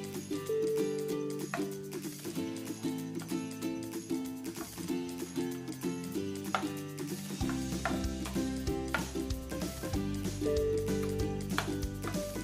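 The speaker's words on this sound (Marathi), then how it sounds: "केळी आपल्याला चांगली त्यात एकजीव करून घ्यायची आहे" A spoon stirs mashed banana into raita in light, repeated scraping taps, moderately close and continuous, with background music playing underneath the whole time.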